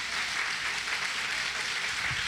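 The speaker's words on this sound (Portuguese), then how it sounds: "Aplauda bem forte ao Senhor." A church congregation claps loudly in a thick, steady wash of applause that holds without breaks for a couple of seconds.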